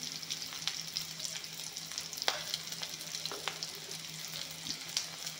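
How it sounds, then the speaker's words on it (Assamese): Onions, garlic, bay leaves and five-spice (panch phoron) sizzle steadily in hot oil, with occasional sharp crackles and pops over a soft, continuous frying hiss. "পিঁয়াজ, নহৰু, তেজপাত, পাঁচফোৰণখিনি ধুনীয়াকৈ ভাজি ল'লোঁ"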